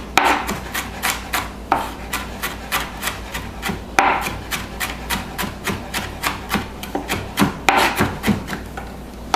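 A sharp knife chops on a board while preparing chicken and cheese quesadillas, a loud, steady run of crisp rhythmic strikes close up, with no voices.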